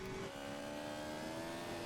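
A motorcycle engine in the video game GTA San Andreas hums and revs steadily with a droning, continuous tone throughout.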